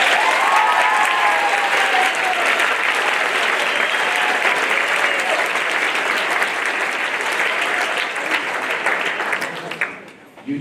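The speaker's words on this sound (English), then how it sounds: "Could I get a round of applause for all the nominees here tonight?" An audience at a school awards ceremony applauds the nominees with steady, loud clapping that lasts about ten seconds before fading out near the end.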